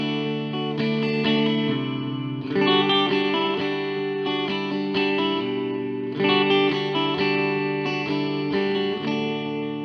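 An electric guitar riff rings through a practice amp on its clean setting with a touch of reverb and delay, chords repeating in a steady phrase with lingering tails, played alone with no talking.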